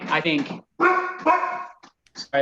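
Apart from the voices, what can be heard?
dog barking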